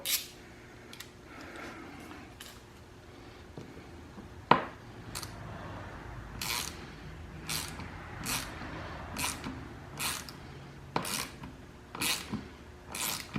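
Quiet ratcheting clicks come in short, regular bursts as a hand ratchet drives screws into a tire rim, with a sharp metallic tap partway through and brief pauses between the bursts.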